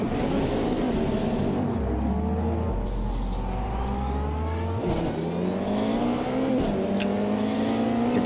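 Porsche race car engine in the Automobilista 2 racing game, loud and continuous throughout, with rising and falling revs as it accelerates and shifts gears.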